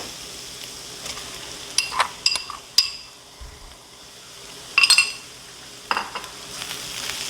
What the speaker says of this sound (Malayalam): ഇതിലേക്ക് ഇനി നമുക്ക് എടുത്തു വെച്ചിരിക്കുന്ന ടിൻ ട്യൂണ ചേർത്ത് കൊടുക്കാം